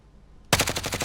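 Rapid automatic gunfire in Call of Duty Warzone, a tight burst of about eight evenly spaced shots that starts abruptly after half a second of quiet, loud and close.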